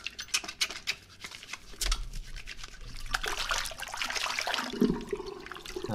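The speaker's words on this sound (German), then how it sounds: "Ich sollte mich vielleicht nochmal waschen." Video game character showering in a hospital on a night shift, a steady water spray hissing and splashing under a few short clicks and a faint voice.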